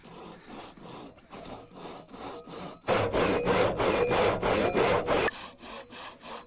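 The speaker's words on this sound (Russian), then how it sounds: "Пилим стволы" A two-handed saw cutting through fallen tree trunks in a forest, steady rhythmic back-and-forth rasping strokes, close and loud, growing heavier and harsher midway before easing off again.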